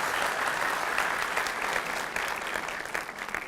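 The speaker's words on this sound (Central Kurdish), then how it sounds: "چەپڵێ لێدەن" Steady, fairly loud applause from a seated audience at a lecture, a dense wash of clapping that holds for several seconds and fades slightly toward the end, with no voices over it.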